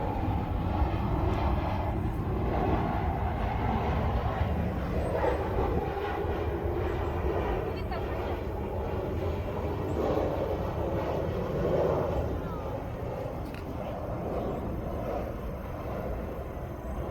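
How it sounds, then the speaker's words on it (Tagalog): Airplanes passing overhead near the island airport at Incheon, Korea, a steady broad engine roar that swells and fades slowly over the whole stretch, with no talk. "Marami talagang dumadaan na eroplano dito."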